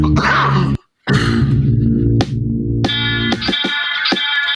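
A loud, pronounced cough sound hits repeatedly as part of a funk beat, with punchy bursts over sustained musical tones and a brief silent gap.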